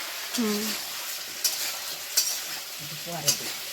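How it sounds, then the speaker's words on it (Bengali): Eggplant slices sizzle steadily in hot oil in a pan in a home kitchen, with a few brief scrapes and clinks of stirring over about four seconds. "দিয়ে একটু ভালো করে ভেজে নেব বেগুন ভাজা দিকে হচ্ছে আস্তে আস্তে"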